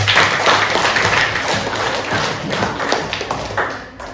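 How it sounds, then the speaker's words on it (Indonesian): A sixth-grade classroom breaks into applause for students who answered, with dense, steady clapping from many children sustained for several seconds before tapering off near the end. "Beri tepuk tangan untuk yang sudah berani menjawab."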